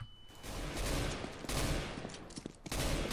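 Gunfire in CS:GO comes in bursts of sharp, loud shots that repeat over a few seconds, with brief lulls between volleys.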